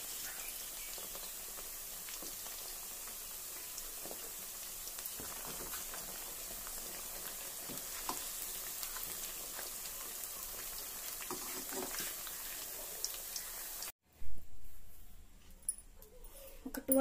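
Mushrooms for Manchurian frying in hot oil, a steady dense sizzle and crackle filling the scene for most of the time before cutting out abruptly near the end, with some louder clatter afterward.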